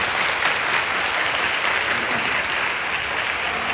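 A church congregation at a Friday night prayer service at Incheon Full Gospel Church claps together in a steady, dense burst of applause lasting a few seconds, with no talking over it.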